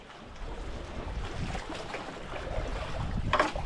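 Strong wind buffets the microphone aboard a boat at sea while waves wash and splash around the hull, a steady broadband roar with a brief sharper swell near the end.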